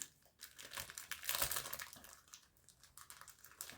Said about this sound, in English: I think I'm just gonna have to make a loud rip here.